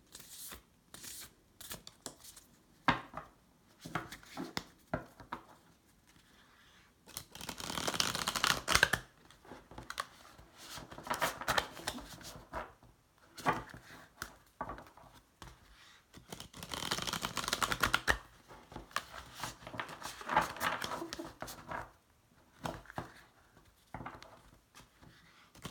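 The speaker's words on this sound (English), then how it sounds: "I'm just going to pull a wild unknown animal spirit card as well" Wild Unknown animal spirit oracle cards are shuffled and drawn in quiet, irregular bursts of papery riffling and tapping, with longer louder shuffles around the middle and pauses between, no speech.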